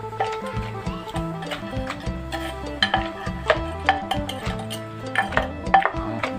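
A spoon stirs straw mushroom soup in a pot, knocking and scraping in a busy, irregular rhythm of close clacks against the metal.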